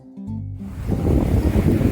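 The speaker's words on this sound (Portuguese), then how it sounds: "muito forte o vento hoje" Strong wind at a seaside pier on the Chilean coast buffets the microphone, rising after a brief quieter tonal moment into a loud, rough, gusty rumble that fills the rest of the clip.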